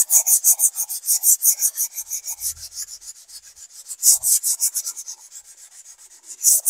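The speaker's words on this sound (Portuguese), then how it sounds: "Para lixar aqui é bem fácil." Sandpaper rubbed by hand over filler on a styrofoam pendant gives quick, rhythmic back-and-forth scratching strokes, close and crisp, with no talk.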